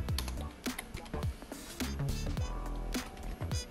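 Someone types on a computer keyboard while setting up a DIY Kubernetes cluster, making rapid, irregular, close clicks and key taps in quick bursts with no talking.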